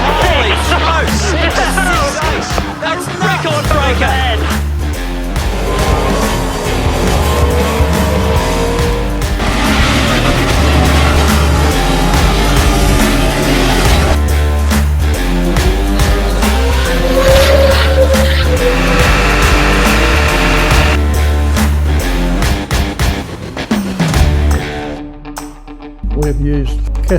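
Car 51 screams through a record-breaking qualifying lap for pole at the Bob Jane T-Marts 1000, its loud engine roaring continuously with pitch shifts under excited commentary and crowd noise, fading near the end.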